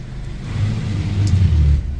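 A Mercedes-Benz car in drive gear, a low steady engine and road rumble heard from inside the cabin, swelling slightly as it moves, with no talking.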